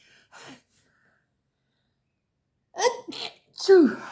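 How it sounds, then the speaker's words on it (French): A short intake of breath, silence, then a loud nearby sneeze in two bursts with a voiced final exhalation. "Je vais encore éternuer."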